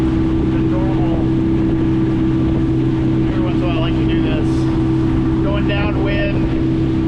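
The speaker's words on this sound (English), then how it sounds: "I'm going to spin it around and try to do speed, you know, just to rev the engine up a little bit more." A steady motorboat engine drones loudly throughout as it revs up for speed on Little Lake Conway, Orlando, Florida, mixed with wind buffeting the microphone, while a person talks over it.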